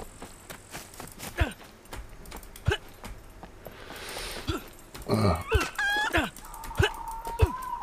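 Chickens in a game setting cluck and crow in short bursts over a busy background of thuds and clatter, with a held squawk near the end.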